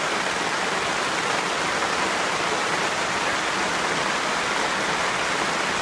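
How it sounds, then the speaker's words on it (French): Rain falling on the roof of a garden greenhouse in autumn, a steady, dense hiss of drops drumming without pause, even and close throughout, with no voices. "On entend la pluie hein, sur le plafond"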